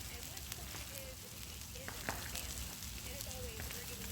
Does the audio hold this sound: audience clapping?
no